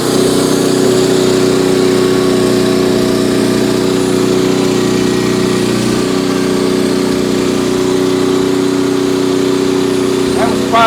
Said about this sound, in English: That was probably 18-inch cut we're cutting right now.